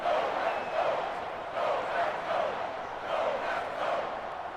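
A stadium crowd roars during a football game, loud and continuous with rising and falling waves of cheering and chanting that swell roughly every second, dense and near, with no clear speech.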